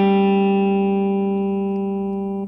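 Electric guitar plays the opening riff of a song, a single sustained bent note ringing out and slowly decaying with a slightly overdriven tone; close and loud, no talking.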